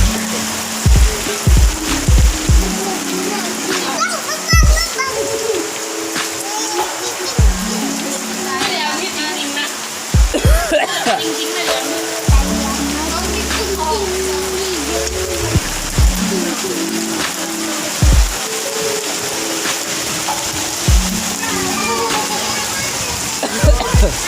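Heavy rain pouring steadily, a dense continuous wash of water spattering on surfaces, with loud close knocks and a person's voice breaking in now and then.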